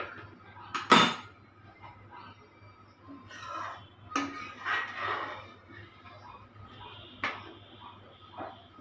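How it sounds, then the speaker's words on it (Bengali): A second metal kadai is set down on a home stove while making palm-fruit malpua. There are a few sharp, close clanks, with quiet kitchen clatter in between. "এবার এখানে আমি আর একটা কড়াই বসিয়ে দিলাম"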